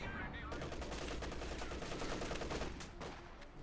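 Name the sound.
machine gun fire in Company of Heroes 2 video game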